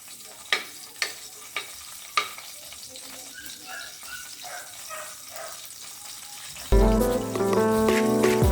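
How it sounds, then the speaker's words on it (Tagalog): Garlic sizzles in cooking oil in a pan for a Filipino red snapper and shrimp tinola, with a few sharp utensil clicks over a steady fry, then louder tonal music comes in near the end. "ilalagay natin ang mantika guys. Ito na guys ang ating bawang"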